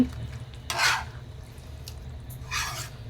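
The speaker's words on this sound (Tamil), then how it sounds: "இந்த மாதிரி தூவி விட்டு ஒரு கலந்து கலந்து விட்டுருங்க" Mutton liver pepper gravy is stirred in a pan, with two soft scraping sweeps of a spoon over a faint background hum and no talking.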